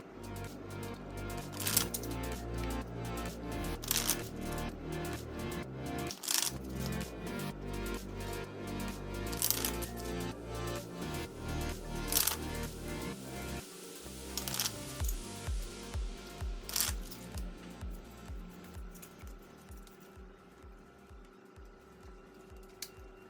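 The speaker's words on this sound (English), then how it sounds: "I am going to start shuffling" Tarot cards are shuffled by hand in a quiet room, a long run of rapid riffling and soft slapping bursts repeating in an uneven rhythm, close and fairly loud, with no talking.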